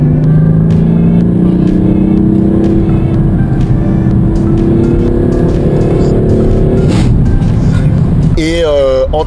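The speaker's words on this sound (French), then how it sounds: "même si c'est du faux son, on a l'impression d'avoir une voiture qui se rapproche d'un V8." Peugeot 308 GT with synthetic V8-like engine sound, heard from the cabin as a loud, rising engine hum with gear-change dips, then a voice speaking over it near the end.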